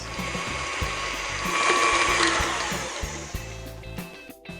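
Chocolate cake batter, with chocolate liqueur and cocoa powder just added, being mixed by machine for a pumpkin spice bundt cake, giving a steady close mechanical whir with rhythmic clicking and rattling throughout.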